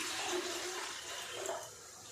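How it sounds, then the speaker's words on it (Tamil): Water poured into a pot for steaming puttu, a soft steady splashing pour lasting about two seconds, fairly quiet and close. "நம்ம வந்து இதில் 2 சொம்பு தண்ணி ஊற்றணும்."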